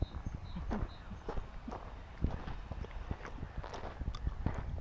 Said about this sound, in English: The ponies are having haylage.